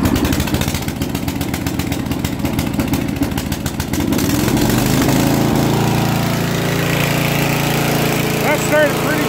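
A Lawn Chief 440 riding mower, choke engaged, cranks with a rapid mechanical chatter, then its engine catches and settles into a loud, steady running drone close by.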